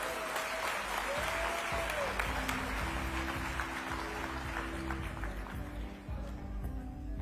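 An audience at an ICT summit claps in sustained applause, a dense even wash of many hands that continues for several seconds, with faint voices mixed beneath.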